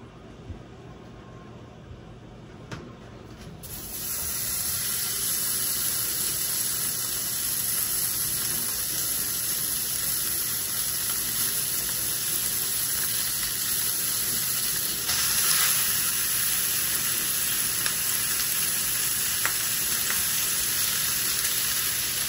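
Bacon frying in a hot cast iron pan: a quiet start, then a loud, dense, steady sizzle that swells and holds close up for the rest of the stretch, with no talk.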